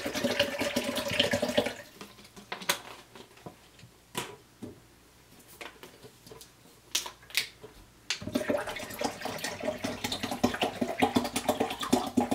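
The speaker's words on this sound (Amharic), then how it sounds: "ውሃ ጨምራለሁ ማለት ነው።" Water is poured in a kitchen to make Ethiopian beso drink, a close splashing and trickling stream that runs for a couple of seconds, breaks into scattered drips and clinks, then resumes pouring steadily.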